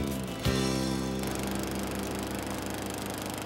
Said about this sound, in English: You're mowing the lawn.